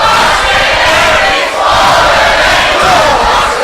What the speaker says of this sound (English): I don't know if I've heard a 1PW crowd louder than when the Fallen Angels out here